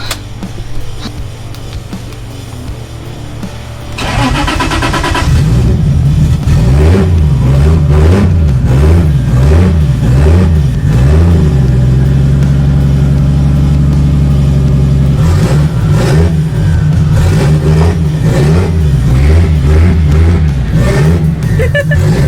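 A Nissan 350Z race car engine cranks and fires up loudly, then idles roughly and revs repeatedly in surging bursts, close by.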